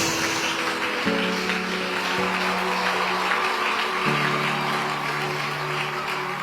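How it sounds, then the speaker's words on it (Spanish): A church congregation claps loudly for Jesus during a worship service, steady broadband applause running throughout alongside sustained keyboard or organ tones. "Denle ese aplauso fuerte a Jesús"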